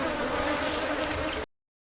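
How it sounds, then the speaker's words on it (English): Honey bees buzzing around a beekeeper's head at an open hive, a continuous close, dense drone with no talk, ending abruptly. "you can still see the bees are not happy with me. They're still flying around my head."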